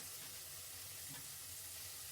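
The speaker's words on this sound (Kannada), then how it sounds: "ಇದನ್ನೆಲ್ಲ ಸ್ವಲ್ಪ ಹುರ್ಕೊಳ್ಬೇಕು. ಈರುಳ್ಳಿ, ಪುದೀನ, ಹಸಿಮೆಣಸಿನ್ಕಾಯಿ ಎಲ್ಲ." Onion, mint and green chili frying in a pan for a mushroom chops gravy, a faint, steady sizzle throughout with no voices.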